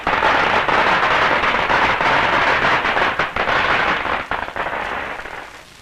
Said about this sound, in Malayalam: പൊട്ടട്ടെ പടക്കം, പൊട്ടട്ടെ.